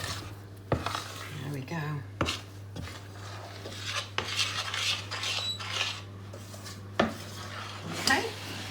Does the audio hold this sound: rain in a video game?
no